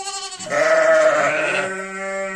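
Young lambs bleat in a new barn built for about 150 sheep, one long, loud, wavering cry close by, with another fainter bleat before it and others trailing after.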